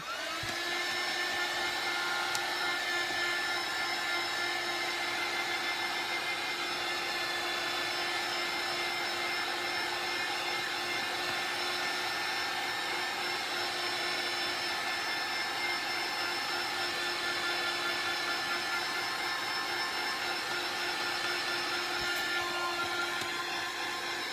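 A heat tool runs continuously while drying a slightly damp handmade embossed card, a steady close whirring blower hum with a high whine that holds unchanged for the whole stretch, with no talking.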